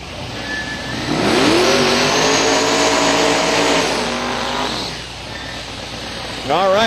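A twin-turbo 2002 Mustang with a 632 Pro Line big-block and twin 94mm Precision turbos sits beside a Camaro at a drag race, engines revving and rising in pitch loudly, with a voice talking over them.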